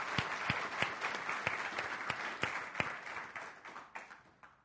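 Applause from a conference closing-session audience at DrupalCon Latin America 2015, a steady wash of many hands with a few sharper near claps standing out, moderately loud and easing off toward the end, with no talk over it.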